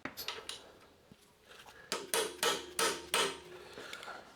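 A hammer strikes a socket on a rusted part of a Scott commuter bike in a workshop, giving several sharp metallic blows in an irregular rhythm, close and fairly loud, with lighter clinks between them.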